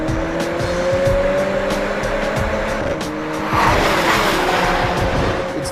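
A 2014 Mercedes-Benz CLA45 AMG engine roars loudly as it accelerates hard from a launch-control start, revs climbing with tire noise, close and sustained throughout.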